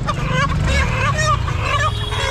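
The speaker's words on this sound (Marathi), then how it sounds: "आणि प्युअर गावरान कोंबडे" Country roosters and hens at a busy livestock market in Chakan, giving loud, dense crowing and clucking calls over a steady crowd and market din, with several birds overlapping throughout.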